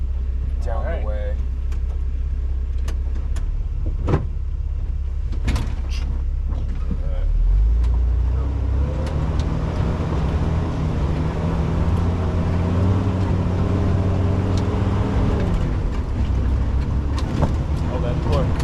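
A jeep engine rumbles steadily on a tour drive, a low drone with rising and falling revs and occasional creaks and clunks, close and loud, with people talking over it.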